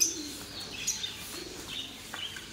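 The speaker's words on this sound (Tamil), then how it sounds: "பறவைங்க சத்தம்லாம் அப்படியே அல்டிமேட்டாக இருந்தது கேட்குறதுக்கு" Faint birds chirping and a soft cooing call in an outdoor setting, scattered short calls over low background noise, no talking.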